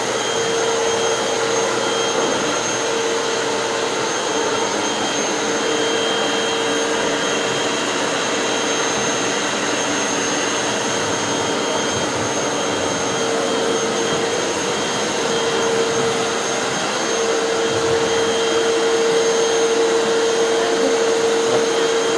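A Sanitaire EXTEND (Mighty Mite) canister vacuum cleaner runs continuously at close range, a loud, steady motor whine with a sustained high-pitched tone and airflow hiss, no voices over it.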